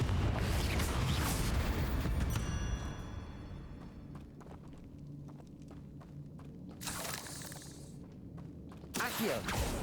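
Confringo explosive spell from Hogwarts Legacy bursting in a tomb chamber, a heavy boom with rumbling debris and mechanical clatter that fades, followed by later thumps and a second swell of noise near the end.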